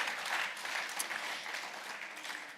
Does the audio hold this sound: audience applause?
yes